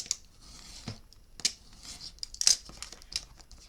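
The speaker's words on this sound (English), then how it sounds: "Just get our blade, and we're going to cut that off." A blade cuts through scrap material in a few short, sharp snips and crinkly tearing sounds, close and fairly quiet with small gaps between strokes.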